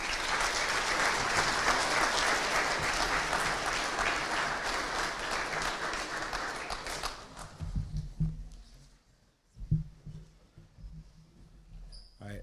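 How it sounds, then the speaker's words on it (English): An audience at a school fall sports assembly gives dense, loud applause for several seconds before it thins into scattered claps and fades out. "let's just give one more round of applause for all the athletes"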